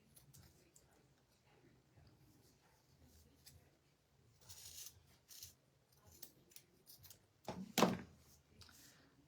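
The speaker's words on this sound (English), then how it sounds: "My scissors aren't very good. I'm having to do multiple cuts." A few quiet scissor snips and rasping cuts in a soft room, ending with one sharper, louder snip.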